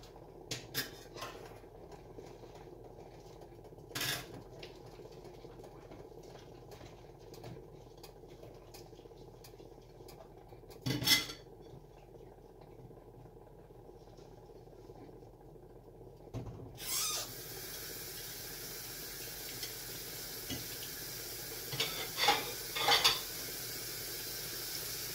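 Dishes, pots and utensils being washed up, with sparse clinks and knocks over a quiet background, then a steady hiss of running water from the tap in the second half, with a few louder clatters near the end.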